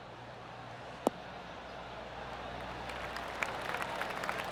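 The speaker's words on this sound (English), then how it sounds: "Oh, golf clap." A golf tournament gallery gives soft, scattered applause that builds gently toward the end, faint and distant behind low background noise.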